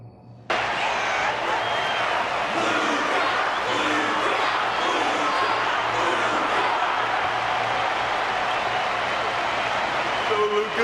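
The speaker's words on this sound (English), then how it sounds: "The audience's passion stays strong. Their constant applause is a salute to this resilient Belabogian fighter." Arena crowd in the game Honkai: Star Rail breaks into sustained applause and cheering after a fight, a loud continuous roar of clapping that begins abruptly and carries on throughout.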